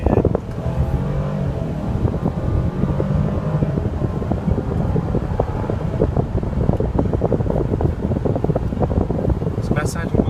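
Mercedes-Benz SL550 roadster with a 4.6 liter turbo V8, a steady engine drone and road and wind rumble heard from inside while driving, loud and continuous, with speech over it.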